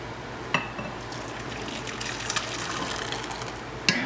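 Garlic soup is poured into a serving bowl with a steady liquid gush and splash, and a couple of light knocks against the bowl.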